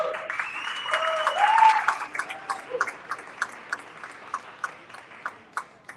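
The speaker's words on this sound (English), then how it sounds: "Give her a round, warm applause." An audience applauds to welcome someone speaker onto the stage at a personal development event, a dense burst of clapping that thins after two seconds into scattered individual claps.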